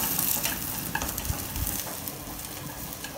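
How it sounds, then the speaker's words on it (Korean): Dried shrimp stir-fry in a small amount of oil in a pan, giving a steady close sizzle with scraping stirs and occasional louder pops throughout, with no voices. "새우를 볶아줄 겁니다."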